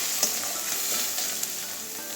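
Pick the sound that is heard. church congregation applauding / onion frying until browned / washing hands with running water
onion frying until browned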